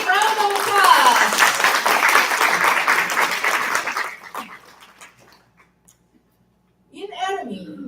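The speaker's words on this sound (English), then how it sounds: "Let's give a big round of applause" A big round of applause from guests and club members at a corporate business event swells for about four seconds and fades out, followed by silence and then a person speaking.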